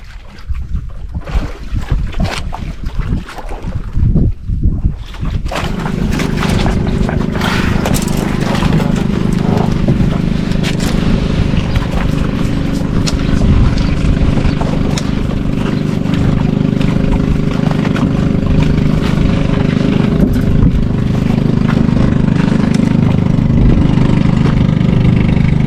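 Fishing boat engine starting at sea at night in strong wind and current; after some early knocks and rustling, the engine catches around five seconds in and settles into a loud, steady, close chugging drone.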